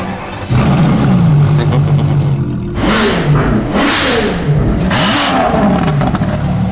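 A powerful Ferrari engine idles loudly, then revs hard three times in quick bursts, each climbing and falling, with a faint voice briefly underneath.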